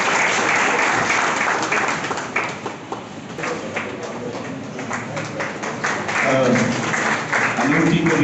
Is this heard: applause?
yes